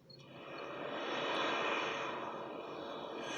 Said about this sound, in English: An airplane flies over carefully chosen areas in the Congo Basin.